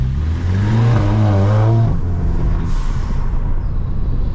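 A 280 bhp Volkswagen Scirocco pulls hard in first gear, its engine note climbing loud and close before a sharp shift cuts it off, leaving a steady roaring road and wind noise.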